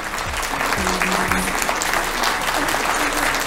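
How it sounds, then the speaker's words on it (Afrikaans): Dense applause from an audience greeting the junior winners of a Free State high school debate competition, loud and continuous clapping filling the hall for a few seconds. "Kan ons vir hierdie juniors 'n groot applous gee?"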